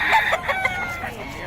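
Roosters and hens for sale at a market in Bocaue give a rooster crow and a few clucks, fairly close and loud, with a faint voice nearby.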